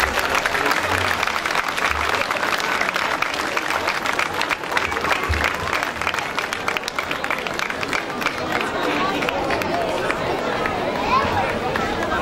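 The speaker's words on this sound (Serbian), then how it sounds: "Molim vas jedan veliki aplauz za njih." Audience at the opening of a festival, loud sustained applause with dense rapid clapping and crowd noise running for around twelve seconds.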